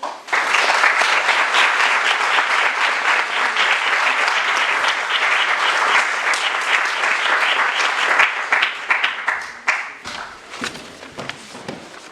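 Audience applause for a speaker at a conference on harmony in design, a dense, sustained burst of many hands clapping that holds loud for about nine seconds before thinning into scattered claps and a few thumps.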